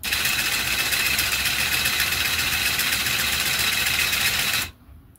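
A 1928 Meccano model traction engine runs at slow speed with a steady, close mechanical whirring and rattling. The sound holds at an even level and then cuts off abruptly near the end, leaving faint background noise.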